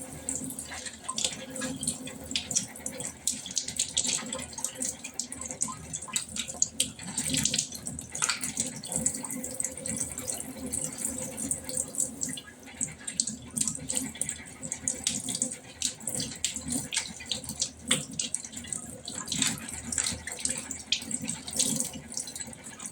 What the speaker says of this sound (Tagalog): So, maghugas tayo ng gulay.